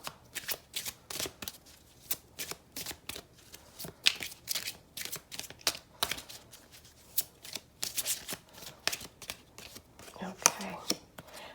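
Oracle cards are shuffled by hand in repeated crisp riffling bursts, close and clear, with a voice speaking softly at times.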